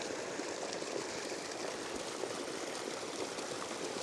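Water gushes from a large outdoor pipe in a steady, broadband rushing stream, constant and fairly close throughout with no voices.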